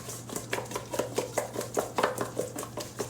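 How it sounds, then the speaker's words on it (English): Chicken wings being tossed with ground black pepper and Creole seasoning in a bowl, a run of quick soft rustling and tapping strokes in a steady rhythm, close and moderately loud over a low constant hum. "Going to toss this around"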